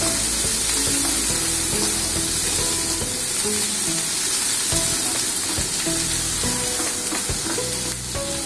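Onion for paneer bhurji sizzling steadily in hot oil, a loud continuous frying hiss with stirring scrapes underneath, constant throughout.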